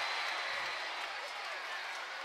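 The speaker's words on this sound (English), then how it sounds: "The crowd react to the blood of Jake Paul coming off his face" A boxing arena crowd at the Jake Paul vs Deji fight roars and applauds in a dense, steady wash of cheering that holds throughout.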